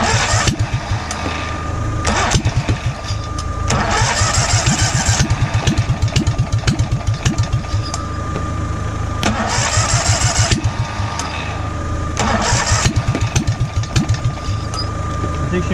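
Small engine mounted sideways being cranked over and over, a fast rhythmic chugging in repeated bursts with short pauses between attempts, loud and close, with a voice briefly heard.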